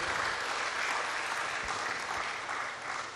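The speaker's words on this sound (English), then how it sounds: "Please give the chairman a very warm round of applause." Audience applause for the chairman at a national conference, a steady wash of clapping from a crowd that holds for about three seconds and fades slightly at the end.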